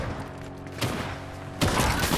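Gunfire in an online shooter match played in duos, heard as a couple of sharp bursts of shots, the second louder, over a steady background of game sound with no speech.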